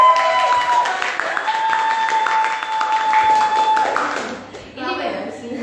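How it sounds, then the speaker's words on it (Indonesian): An audience at a child-development clinic presentation claps steadily for several seconds, with a sustained tone and voices mixed in, then the clapping thins out as talking continues. "Kita mau tepuk tangan dulu buat kalian dan kalian."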